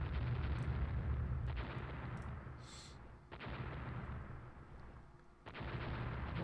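Battleship big guns firing in the naval video game Rule the Waves, with a British battle line engaging: repeated heavy booming salvos that roll and rumble between shots, fairly loud and with no talk.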